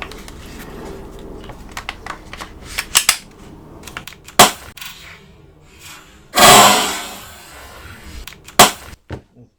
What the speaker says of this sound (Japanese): バッテリーを差し込みスイッチを入れたその瞬間、パーンって爆発音がね、インパクトドライバーから聞こえてきました